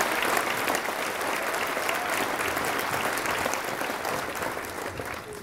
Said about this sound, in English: Let's give the girls another huge round of applause.